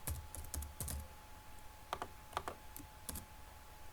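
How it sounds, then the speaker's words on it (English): Keys clack on a computer keyboard in short irregular bursts of separate taps, quiet and close, with a low electrical hum behind them and no voices. "let's just type here the class name"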